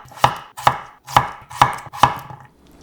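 A knife slices peeled, quartered potatoes into half-centimetre pieces on a cutting board, five crisp, evenly spaced chops close by with no talking.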